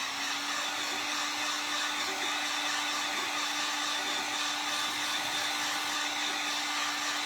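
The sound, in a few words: hair dryer drying paint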